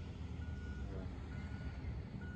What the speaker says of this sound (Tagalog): Nakita nyo yung dump truck na yan